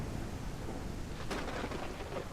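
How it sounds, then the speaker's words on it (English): Steady rain pours in the Ranch Simulator video game, a dense, constant hiss with low rumbling thunder beneath, swelling briefly midway, loud and close with no talking. "So we're going to finish this up with some rain."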